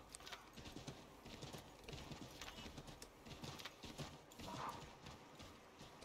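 Horse hooves clip-clop steadily in Assassin's Creed 3, a loud, continuous rhythmic trot over a busy game soundscape with a brief whinny-like tone near the end.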